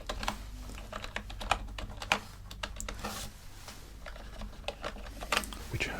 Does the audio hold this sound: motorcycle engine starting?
no